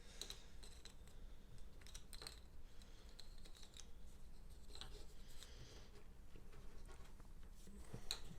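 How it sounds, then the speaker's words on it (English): Eldritch Horror board game cards shuffled by hand: steady papery rubbing and riffling with small clicks and snaps, close and continuous for the whole stretch, with no talking. "I'll do a quick shuffling here"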